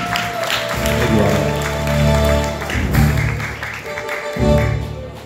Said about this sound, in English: give a round of applause for my friend, Mr. Jay Salvin, please